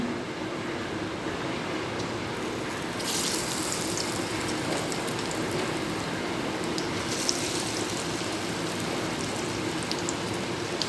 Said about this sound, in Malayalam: നമുക്ക് ചൂടായ എണ്ണയിലുണ്ടല്ല നമ്മുടെ ചക്കക്കുരു വിതറിയിട്ടിട്ട് കൊടുക്കാം